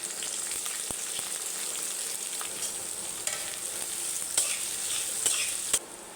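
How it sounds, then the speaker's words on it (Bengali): Chopped garlic, a green chili and chopped onion fry in hot oil in a home kitchen, a close, steady sizzle with intermittent scrapes and clicks of stirring and no talking. "গরম তেলে আমি দিয়ে দেব রসুন কুচি, একটা কাঁচা মরিচ। এবার আমি দিয়ে দেব পেঁয়াজ কুচি।"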